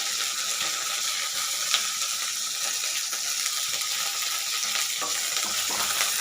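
Garlic and cumin seeds frying in a hot pan for a ridge gourd chutney, giving a steady, close crackling sizzle with a faint stir or two, no talking.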